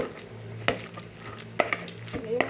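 A sweet potato dish cooks in a pan with a steady low sizzle, broken by a few sharp clanks and scrapes of a utensil against the pan.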